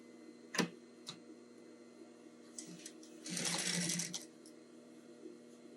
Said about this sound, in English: And I double stitch across